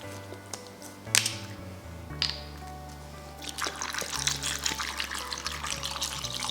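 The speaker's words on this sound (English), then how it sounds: "let's soak this in cold water for about 10 minutes" Cold water runs and splashes into a bowl with a few sharp clinks, growing louder and more turbulent toward the end.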